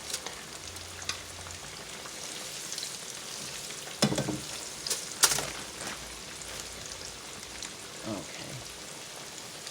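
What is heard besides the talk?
fish frying in oil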